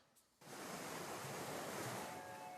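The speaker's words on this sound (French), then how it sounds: "Le souffle de la mer et des plages désertes, balayées par le vent" Sea waves and wind sweep an empty beach on the Normandy coast, a loud, steady, broad wash of surf and gusting air that starts abruptly and holds without voices.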